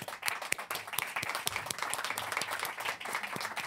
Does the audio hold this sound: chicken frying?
no